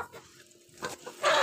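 Hungry village chickens cluck softly near the listener as grain is scattered for them, with a few short clucks, quieter gaps between them and a louder burst at the end.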